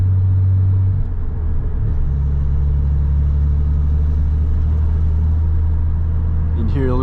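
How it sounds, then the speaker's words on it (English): A Nissan 300ZX twin turbo engine with a small exhaust leak runs with a loud, steady low drone and rumble from inside the car, with a slight shift in tone partway through. "You can hear a little exhaust leak."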